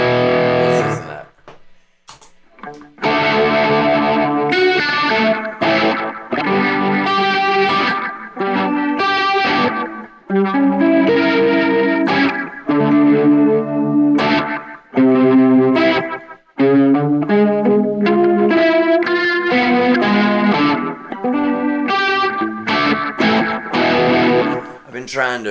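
Electric guitar run through a Keeley I Get Around rotary Leslie-style pedal, with loud, swirling, chorused chords and notes, slightly distorted, playing continuously after a short quiet start.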